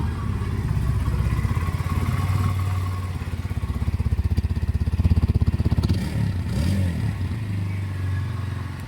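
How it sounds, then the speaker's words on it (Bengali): A 2025 Hero Xtreme 160R 4V motorcycle engine runs close by at a steady, rhythmic idle, then gives a brief throttle blip before settling back. "তো এরকম টাইপের একটা ইঞ্জিন সাউন্ড দেখতে পারবে।"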